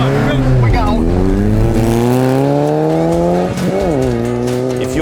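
A rally side-by-side launches hard from a stage start, its engine roaring loud and close as the revs climb through successive gear changes, with a brief dip between shifts.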